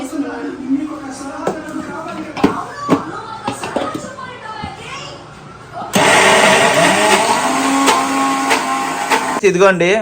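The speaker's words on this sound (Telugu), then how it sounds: "ఇంకా మిక్సీ పట్టేయడమే ఆల్రెడీ ఒక రౌండ్ మిక్సీ పట్టాము" Voices talk over clattering kitchen sounds, then a mixer grinder whirs on loudly, running steadily for several seconds before cutting off.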